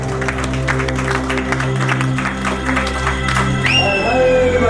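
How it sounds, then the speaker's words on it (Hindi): Audience applause at a Maharani Laxmi Bai Medical College, Jhansi, batch-1971 alumni meet: dense, loud, steady clapping from a crowd that persists over sustained tonal sounds, with a rising whistle-like tone near the end. "जोर से तालियां बजाइए भाई"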